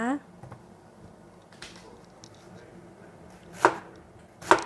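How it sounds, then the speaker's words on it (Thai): Two sharp knife chops cut through a Japanese onion on a board near the end, with quieter scraping and soft kitchen sounds before them. "เราจะมาหั่นหัวหอม ญี่ปุ่นกันนะคะ"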